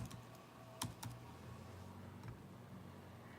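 Someone typing a zip code on a computer keyboard: a few sparse, quiet key clicks spaced unevenly over a low room hum, with no talking.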